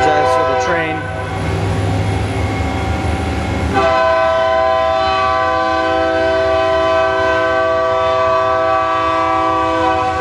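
Right beside a workshop holding a Hyundai HIT-15S CNC turning center, a passing train sounds its horn in long, loud sustained blasts over a heavy rolling rumble that carries on throughout.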